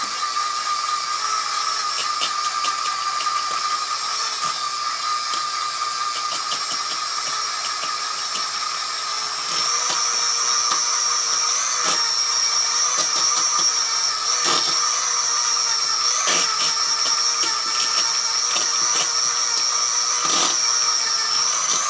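Electric mixer beating sugar and butter together for a pound cake, a steady continuous whir at constant loudness for the whole span, with no talking.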